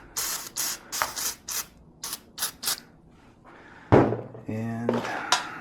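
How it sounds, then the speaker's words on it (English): CLP cleaner sprayed into a MAS 49/56 rifle in short, sharp hissing bursts, followed by metallic clicks and handling noises. "we get a little CLP. Just sort of spray it in here."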